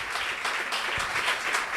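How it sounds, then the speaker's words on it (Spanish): Applause from a church congregation during a Spanish-language evangelical conference sermon, a steady dense wash of many hands clapping at once, fairly loud and continuous for a couple of seconds without talk. "Den un aplauso fuerte al Señor."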